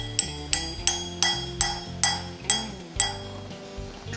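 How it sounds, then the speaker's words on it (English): Eight sharp metallic taps from a brass hammer driving a metal pin into a brass cannon barrel ring out at a steady pace, each strike bright and clanging with a short decaying ring, up close. "Brass hammer."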